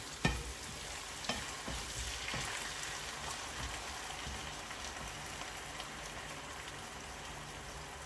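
Salmon simmering in a pan after evaporated milk is added, a steady soft sizzle and bubbling throughout with a couple of faint clicks near the start, no talking.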